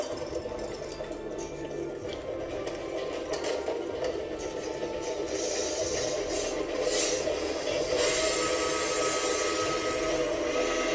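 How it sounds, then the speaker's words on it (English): A standing train gives off hissing steam and squeaking metal: a steady hiss runs throughout, swelling with scratchy bursts and growing louder near the end, with no voices. "From outside, he heard the sound of hissing steam and squeaking metal."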